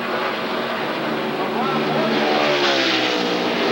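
Engine of a NASCAR Craftsman Truck Series race truck at the 2000 Sears DieHard 200, a steady loud roar of racing engines with shifting pitch, heard continuously under a commentator's voice.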